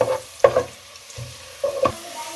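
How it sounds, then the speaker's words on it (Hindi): Spices and onions are stirred and scraped around a hot pan in a few quick strokes, with a soft sizzle between them. "अब मसाले को इसमें भून लें प्याज के साथ ही"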